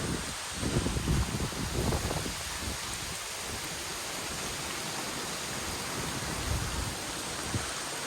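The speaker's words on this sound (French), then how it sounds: "il pleut et pas qu'un peu" Heavy rain pours outside a caravan as a dense, steady roar. It stays constant and fairly loud with no voices.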